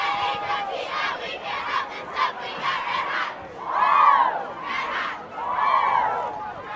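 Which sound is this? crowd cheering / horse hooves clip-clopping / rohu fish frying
crowd cheering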